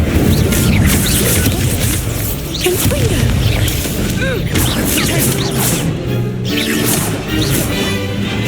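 Fire spell casts and magical combat in Hogwarts Legacy, dense loud crashes, whooshes and impact bursts layered over game music, with a voice shouting spell names throughout.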